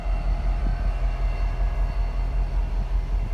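A BNSF diesel locomotive idles at a depot shop, a steady low rumble with a constant engine drone, heard close and continuous with no talk.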